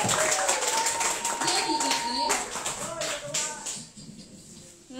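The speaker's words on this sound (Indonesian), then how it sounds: "Beri tepuk tangan dong" An audience claps for Muhammad Najamudin at a community student gathering, a short burst of hand claps that tapers off after a few seconds, with voices talking over it.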